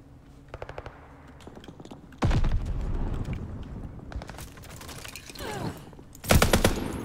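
Gunfire in the video game Call of Duty Vanguard: bursts of machine-gun fire and single shots, with a sharp rise in loud continuous firing midway and a final heavy burst near the end.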